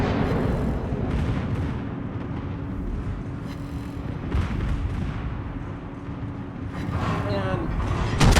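Battleship guns firing in a naval game as a Musashi engages the Bayard: deep booming artillery blasts roll over a steady rumbling battle din, with a louder report near the end, while voices talk over it.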